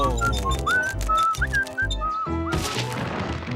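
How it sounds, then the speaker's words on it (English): A cartoon character whistles a repeated melodic tune, bright and wavering, over steady background music with a few dull thumps. "Must you always whistle the same tune?"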